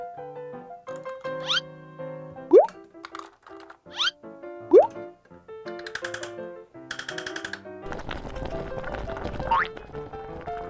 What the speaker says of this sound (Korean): 이걸 이용해서 요괴볼을 하나씩 냄비에 넣어줄게요